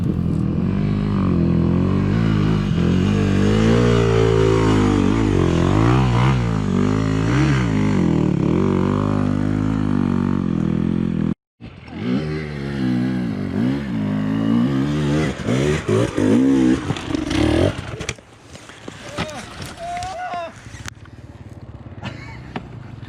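Enduro motorcycles climb a clay slope near Kamloops, Canada, with engines revving hard and rising and falling in pitch, loud and close. A brief cut midway leads into more revving that fades to quieter clatter.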